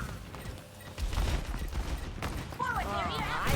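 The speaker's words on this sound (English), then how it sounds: "Rocket barrage incoming." A rocket barrage in Overwatch 2 erupts as a rapid, clattering volley of blasts and mechanical bursts in a hectic match, with voices talking over the later part.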